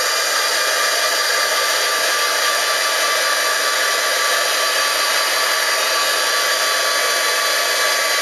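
A heat embossing tool blows a steady, loud, hair-dryer-like whoosh with no breaks, melting embossing powder until it turns shiny.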